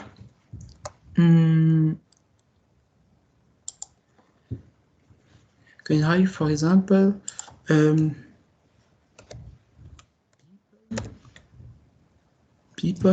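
Sparse, crisp clicks from keys pressed on a computer keyboard while someone types, scattered between stretches of a person talking nearby.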